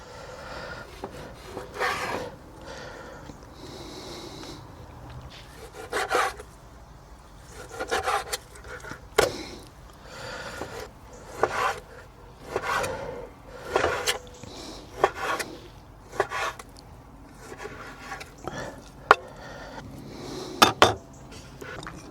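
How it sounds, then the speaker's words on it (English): Knife slicing pork into thin slices on a cutting board: a series of short, separate cuts and taps at an irregular pace, close and moderately quiet. "I'm going to cut my pork into thin slices."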